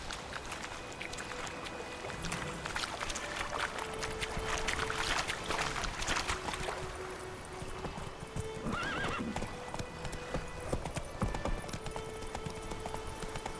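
Horse hooves clip-clop steadily in The Witcher 3, with whinnies and soft snorts over a quiet ambient game backdrop, moderately close.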